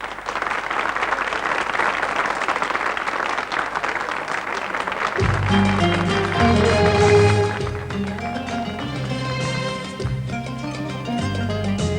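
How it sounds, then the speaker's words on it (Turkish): A TV studio audience claps and applauds steadily for several seconds before music starts playing as a singer is introduced. "Hep birlikte alkışlıyoruz"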